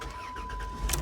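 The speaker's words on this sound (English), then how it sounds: "Van is cold right now. Let's start her up. Give it a listen." A cold-started van over 20 years old cranks and catches, a brief mechanical start with a louder burst near the end, steady hum throughout.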